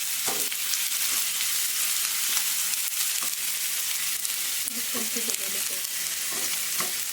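Tempering spices crackle and sizzle in hot oil with turmeric and a little water, a dense continuous frying hiss punctuated by sharp pops and spatters throughout.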